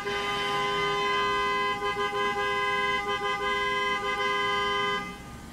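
A car horn sounds downstairs outside, steady and moderately distant, holding a long tone for several seconds with a few brief stutters before fading out under low background rumble.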